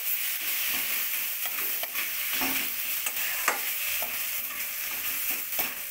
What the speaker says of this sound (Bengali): দিয়ে এটার সঙ্গে মিশিয়ে নিতে হবে তিলের সাথে আলুটাকে ভালো করে